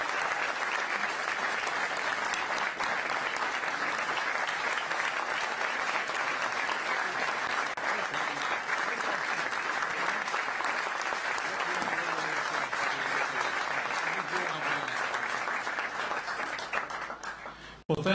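A large crowd at an energy policy event gives sustained applause to welcome Vice President Mike Pence, a thick, even roar of clapping that holds steady for many seconds before cutting off abruptly at the end.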